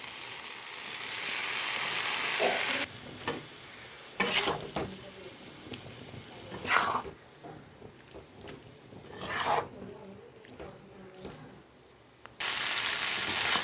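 Taro stolons coated in mustard paste with chili and salt fry in a pan, making a soft sizzle with scraping stir noises that come in bursts, stopping and starting close by and fairly quiet.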